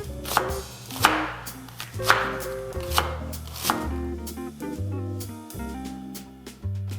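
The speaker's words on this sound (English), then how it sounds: "So I'm just gonna chop up the fennel bulb by taking off the fronds, cutting him in half." A knife chops a fennel bulb on a cutting board in a home kitchen, a series of close, sharp, uneven thuds and cuts that repeat steadily on their own.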